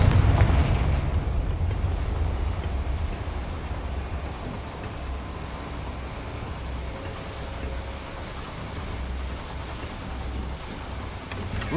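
A Confringo explosive spell blasts in Hogwarts Legacy, a heavy booming burst at the start that trails off into a long low rumble, loud and unaccompanied by talk.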